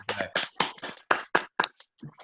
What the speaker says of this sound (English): Can we give Adrian a round of applause?